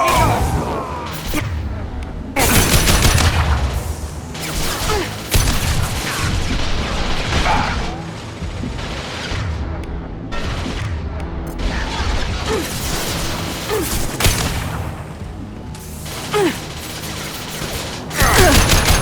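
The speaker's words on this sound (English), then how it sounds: "On target! Taking heavy fire!" Sustained heavy gunfire and crashing impacts from a Mass Effect 2 firefight, loud bursts and booms packed closely together through most of the stretch, with brief drop-outs between volleys and faint voices mixed underneath.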